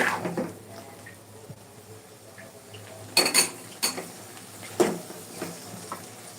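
Garlic pickle is stirred in a metal kadai, with a few sharp spoon-on-pan clinks and scrapes standing out over a quiet background at irregular intervals.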